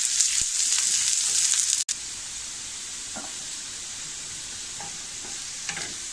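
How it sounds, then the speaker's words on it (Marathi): Medium-sized onion sautéing in a pan over medium heat, a steady close sizzle with occasional stirring scrapes, a brief dropout near two seconds, no talking. "थोडंसं परतूया त्याला आपण."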